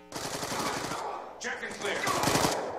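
Gunfire in Call of Duty: Black Ops 2, rapid machine-gun bursts repeating loudly, pausing briefly, then resuming in another fast burst, with a commentator talking over it.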